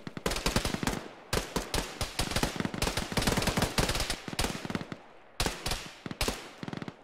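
Sustained gunfire in the military game Arma, rapid bursts of loud automatic shots in close succession, with a few brief pauses between volleys and no talking.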